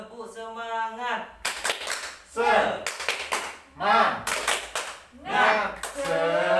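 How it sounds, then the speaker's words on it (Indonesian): A group in an Indonesian training session claps a rhythmic spirited cheer in short bursts, with voices chanting between the clap patterns. "Oke tepuk semangat."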